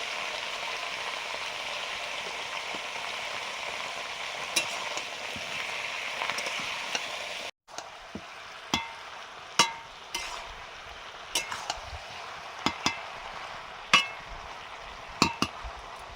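Spices spluttering in hot oil for a tangra fish curry: a steady dense sizzle for about seven seconds, then cutting to quieter frying with scattered sharp pops and crackles.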